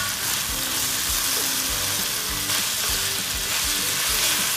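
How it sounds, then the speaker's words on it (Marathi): Prawns frying in a hot pan for a chilli prawn dish, giving a loud, dense, continuous sizzle up close with faint stirring underneath, unbroken by speech. "त्याच्यामध्ये कोलंबी टाकणार आहोत"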